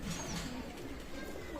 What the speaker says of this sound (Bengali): চমৎকার রানিং পেয়ার টেডি কবুতর, অসাধারণ টেডি কবুতর।